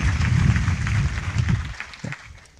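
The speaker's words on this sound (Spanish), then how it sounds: "con un cordial aplauso" An audience at a lecture on Mars and the search for life claps together in a dense burst of applause that fades out over a couple of seconds, leaving a few scattered claps.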